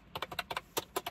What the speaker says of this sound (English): it's still clicky, like typewriter-esque